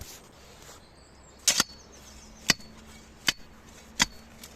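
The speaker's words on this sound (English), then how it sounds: "that's the sound of a big boulder by the sounds of it" A digging bar strikes stone while a fence post hole is dug, hitting a big boulder: four sharp metallic clanks spaced about a second apart, outdoors, with no talk.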